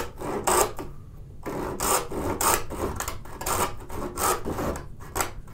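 Hand saw pulled through soft palm wood, giving repeated rasping strokes in an uneven rhythm, close and fairly loud with no voices over it.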